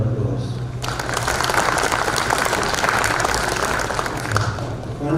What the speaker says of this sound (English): Please put your hands together and give them a round of applause.